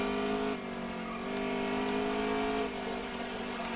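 A NASCAR truck engine in the NASCAR Heat 3 video game easing off speed, a steady buzzing drone with a slight dip in pitch, continuous and fairly loud with no other sounds.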